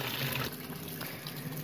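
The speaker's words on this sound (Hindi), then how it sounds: "तो ये अपना पानी पूरा करेगा।" Water pours steadily into the drum of an Orient automatic washing machine as it fills, a continuous close rushing stream that eases slightly partway through.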